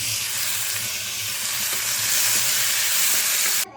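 Onion fries with chilies in a pan, giving a loud, dense, continuous sizzle with faint stirring scrapes, close up, cutting off abruptly at the end without speech.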